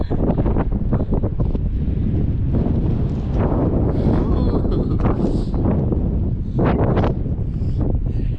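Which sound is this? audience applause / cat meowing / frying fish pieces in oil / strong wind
strong wind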